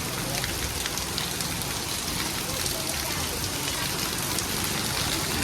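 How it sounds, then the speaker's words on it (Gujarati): Heavy rain pours steadily over a village, a dense, continuous wash of drops hitting surfaces without pause, with people faintly talking beneath it. "વરસાદ ચાલુ છે."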